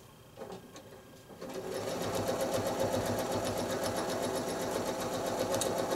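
After a few quiet seconds, a sewing machine starts up and runs fast and steady, stitching straight lines of free-motion quilting on a modern square block.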